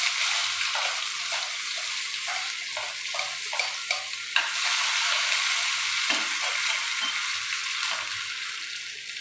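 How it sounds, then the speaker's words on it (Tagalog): Onions go into a pan to sauté for a Filipino ginisa dish, sizzling and crackling steadily as a utensil scrapes and taps with rhythmic stirring, all without talk. "Ilagay ko na itong ating sibuyas."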